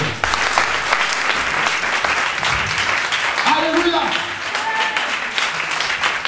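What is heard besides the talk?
church congregation applauding and cheering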